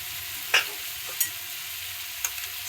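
A spatula stirs a dry chickpea curry with coriander in a pan, giving three sharp scraping clinks over a soft, steady sizzle.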